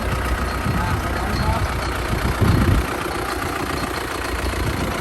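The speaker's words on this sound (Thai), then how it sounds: "อันนี้ 55 แรงนะครับ ยูโรนะครับรถไถยูโรนะครับ" A used Euro 55 horsepower farm tractor idling, a steady low rumbling engine drone with a brief swell partway through, close and loud, with talking over it.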